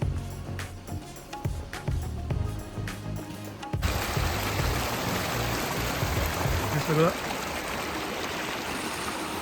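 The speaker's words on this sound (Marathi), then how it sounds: "इकडून वाहणाऱ्या गरम पाण्याच्या कुंडात आंघोळी नक्की करा" Faint voices and bumps, then hot spring water flowing and splashing steadily into a bathing pool at Kheerganga in a constant close rush that carries on to the end.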